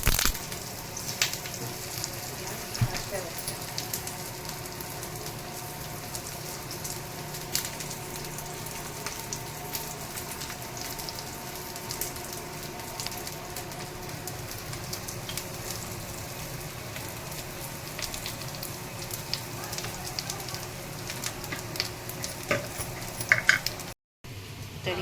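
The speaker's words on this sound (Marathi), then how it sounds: "आता आपण ही फ्राय करूया." Aloo vadi pieces fry in hot oil with mustard seeds and white sesame, giving a steady, dense sizzle with faint crackles throughout, close and continuous with no voices.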